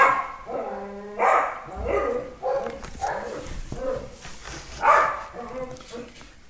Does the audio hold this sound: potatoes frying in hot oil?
no